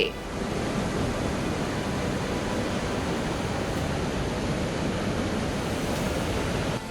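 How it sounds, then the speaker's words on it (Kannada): Surumane waterfall near Chikkamagaluru thundering in flood, a dense, steady broadband roar of rushing water that holds constant and loud throughout with no voices. "ಚಿಕ್ಕಮಗಳೂರಲ್ಲಿ ಅಪಾಯದ ಮಟ್ಟ ಮೀರಿ ಸುರುಮನೆ ಜಲಪಾತ ಧುಮ್ಮಿಕ್ಕುತ್ತಿದೆ"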